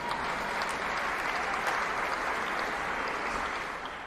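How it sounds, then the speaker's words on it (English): A big bar crowd at a bar box soccer match applauds and cheers steadily, a dense wash of clapping that stays loud throughout, easing slightly at the end. "Crowd goes wild."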